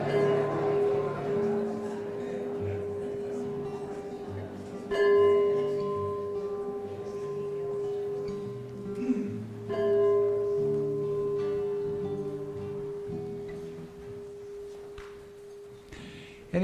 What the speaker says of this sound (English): Jim, ring the bell, please.